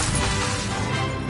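A spell impact from Hogwarts Legacy lands as a dense, crashing burst of magical energy, sustained and loud for its full length with a rumbling low end and no speech.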